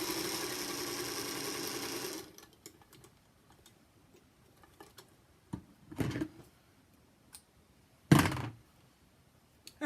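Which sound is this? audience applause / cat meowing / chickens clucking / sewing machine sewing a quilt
sewing machine sewing a quilt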